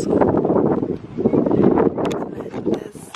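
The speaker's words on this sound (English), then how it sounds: "it's very windy, but it's warm" Strong wind buffets the microphone in heavy, uneven gusts, a rough roaring rumble that swells and dips throughout.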